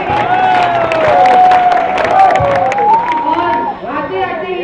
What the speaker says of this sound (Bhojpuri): आप लोग थोड़ा ताली वाली बजाते रहिए।